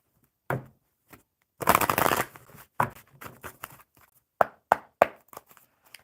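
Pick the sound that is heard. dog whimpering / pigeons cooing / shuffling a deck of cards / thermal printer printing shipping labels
shuffling a deck of cards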